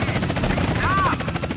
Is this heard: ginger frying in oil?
no